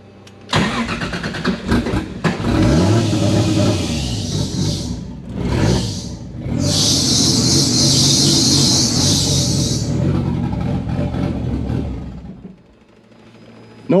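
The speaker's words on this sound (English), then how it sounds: "I gotta hold my foot down and it starts a little rough because I don't think we're perfectly on point with the ignition timing" A drift car engine with untuned ignition timing cranks, catches roughly and stumbles, then revs loud and close for several seconds before dropping back and cutting off.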